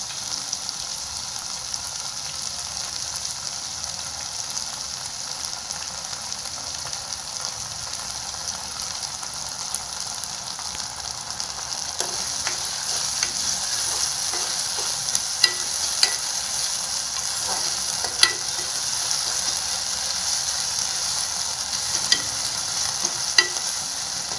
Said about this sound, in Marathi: बघा कांदे परतले बघा आपल्या भाज्या मस्त परतल्यात